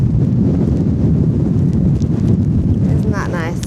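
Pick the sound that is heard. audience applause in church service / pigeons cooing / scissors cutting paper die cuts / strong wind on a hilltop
strong wind on a hilltop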